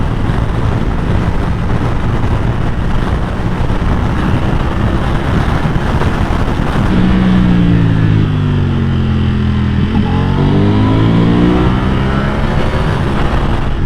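Ducati Panigale V4 SP2 sport motorcycle being ridden on the road, a loud continuous engine drone under heavy wind rush, with the pitch rising and falling through the second half as the rider works the throttle.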